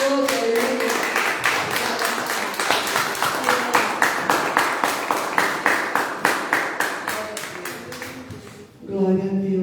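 Church congregation claps in a steady rhythmic beat, many hands together keeping time for several seconds before fading, with a voice and music coming in at the end.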